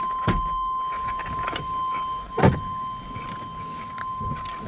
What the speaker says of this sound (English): Very, very typical GMT 400 door buzzer.